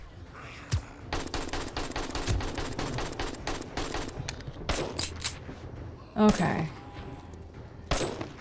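Rapid gunfire from the video game 7 Days to Die, with many sharp shots in quick succession and a few louder isolated cracks near the end, under occasional speech.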